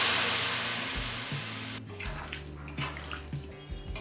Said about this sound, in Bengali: এবার খুব সামান্য পরিমাণে দিচ্ছি একটু গরম জল।